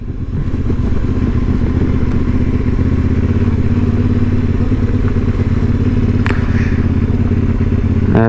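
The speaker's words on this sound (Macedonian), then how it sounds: "Еве сме кај го остам моторот" A motorcycle engine drones loud and steady while riding a rocky mountain track on Pelister, with a constant low rumble, occasional clatter of stones and a brief rattle near the end.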